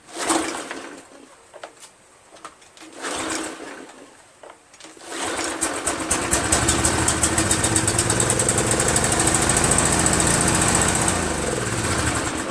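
Craftsman 2700 PSI pressure washer with a Briggs 7.75 engine, after a few sputtering pulls, catches and settles into a loud steady running drone, close by.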